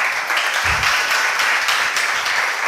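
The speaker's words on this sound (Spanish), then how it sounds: "Otro aplauso para Pablo, por favor." Audience at an innovation and design conference claps in sustained, dense applause, loud and even throughout with no pause.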